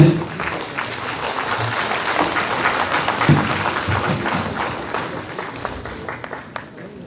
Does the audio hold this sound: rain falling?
no